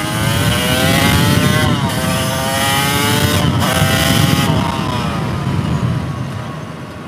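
A Yamaha YZ250 two-stroke supermoto rides through sand, its engine buzzing loud and close with a rising, falling rev pitch as the throttle is worked in short surges, over steady wind and tire rumble.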